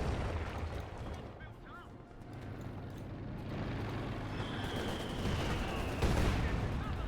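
In a Company of Heroes 2 match, mortar shells land amid dense battlefield noise, producing continuous rumbling blasts and crackling gunfire that stay loud throughout, with a voice talking over the action.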